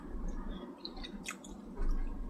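Close, wet chewing and squishing of fish mashed with curry gravy and eaten by hand, soft smacking bites over a low room hum, with no talking.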